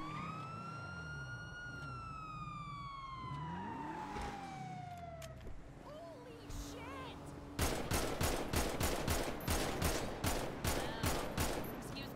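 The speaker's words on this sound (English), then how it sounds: "They're shooting. They're shooting. Shots fired." Shootout in the GTA RP video game: a wailing police siren sweeps and fades, then a rapid burst of gunfire erupts, sharp shots repeating in quick succession, loud and close, with faint voices beneath.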